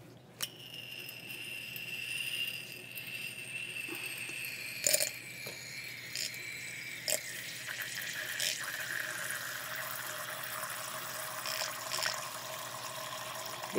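Distilled water being poured for measurement, with a thin steady trickle whose pitch rises as the vessel fills, punctuated by a few light clinks, close and fairly quiet.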